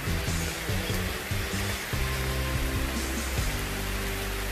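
Heavy rain pours in the mountains during a motorbike trip, a loud, unbroken broadband hiss with a low, wavering hum underneath.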